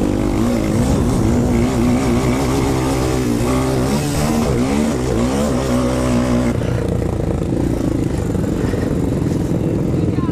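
Motocross motorcycles race past during a Bloomfield Holler cross-country round, their engines roaring loudly and continuously with rising and falling revs as bikes pass close by.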